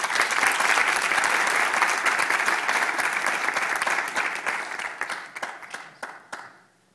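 Applause from a crowd at a rally against executions, thick sustained clapping that thins into scattered individual claps and fades out near the end.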